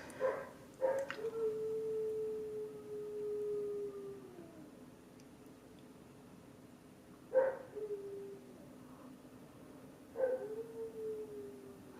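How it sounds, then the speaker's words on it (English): A distant dog in the Canadian north woods lets out drawn-out, falling howls, one long wail followed by shorter ones after pauses, faint and carrying across a quiet background. "That's howling again."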